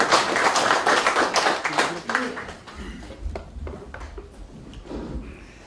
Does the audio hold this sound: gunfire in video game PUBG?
no